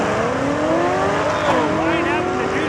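A 1977 Chevrolet Nova drag race car launches off the starting line at a raceway, its engine roaring loud and rising in pitch as it pulls away and slightly sideways, with an announcer talking over it.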